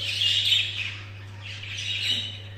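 Pet birds in a breeding cage chirp continuously during courtship, a steady high twittering that rises and falls across the whole stretch, close by, over a low constant hum, with no voices.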